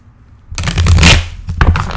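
A deck of tarot cards is shuffled up close, a brisk riffle of rapid papery flutters rising loudly after a quiet start and ending in a few soft taps.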